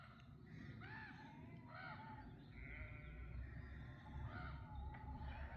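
Crows calling in a garden beside a greenhouse, repeated harsh caws and squabbling calls at a moderate distance over steady outdoor background noise.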